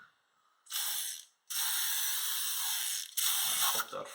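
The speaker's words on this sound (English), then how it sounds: "Okay, so I'll give this whole thing a spray down." Several hissing bursts of PB Blaster penetrating oil spray on a stuck part of a 1966 Ford Mustang, one short then one long, followed by another spurt, close and fairly loud.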